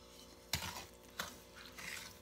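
A wooden spatula stirs crushed Maria biscuits mixed with melted butter in a pan, giving two sharp scraping knocks followed by softer, quieter scraping, close and faint, with no voices.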